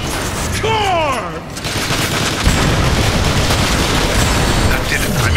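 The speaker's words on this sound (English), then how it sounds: "Blast the power cells!" Sustained loud blasts and rapid gunfire from a Transformers War for Cybertron game scene as power cells are shot, with a dense explosive roar filling the whole stretch and a brief swooping tone near the start.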